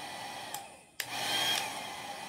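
A hair dryer on its low setting blows steadily at a paper craft piece, a soft continuous whir near the mic, briefly interrupted by a couple of light knocks before resuming.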